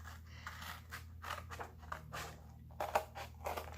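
Scissors cutting the spine off a handmade junk journal: a quiet series of crisp, irregular snips and paper crunches, heard close up with no talking.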